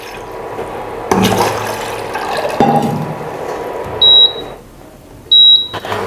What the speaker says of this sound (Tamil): இதில் 2 டம்ளர் தண்ணி ஊற்றணும்.